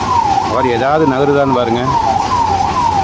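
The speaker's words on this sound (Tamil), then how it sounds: "பின்னாடி வேறு ஆம்புலன்ஸ் வருது." An ambulance siren wails in repeated rising and falling sweeps while the vehicle sits stuck at a traffic signal. Steady road noise runs beneath it, and someone speaks over the siren.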